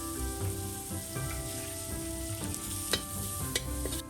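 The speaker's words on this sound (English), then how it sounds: "Using the same oil, fry the garlic at medium-high heat until fragrant." Garlic frying in oil in a wok at medium-high heat, a steady quiet sizzle with occasional stirring taps and scrapes, close and continuous.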